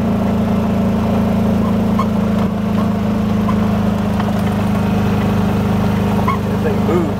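Gas-powered Club Car golf cart engine, governed and jacked up, running steadily with a constant low hum and drone throughout as it accelerates; a voice talks over it.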